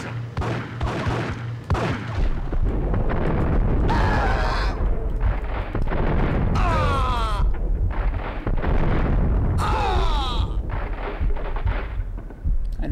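Grenade blasts and gunfire fill a boiler room in Max Payne, with loud, dense explosions and crackling bursts that repeat, mixed with game effects.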